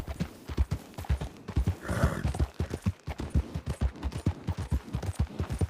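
Galloping hooves of horses in the video game Red Dead Redemption, a rapid, loud clip-clop rhythm with a brief whinny-like swell in the middle.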